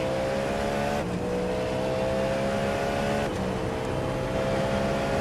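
GTP-class prototype race cars roar away at a green-flag start, engines screaming loudly and continuously as they climb through the gears, with pitch drops at each upshift.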